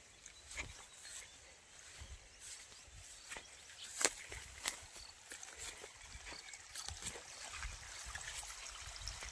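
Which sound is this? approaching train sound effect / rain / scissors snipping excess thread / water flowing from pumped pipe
water flowing from pumped pipe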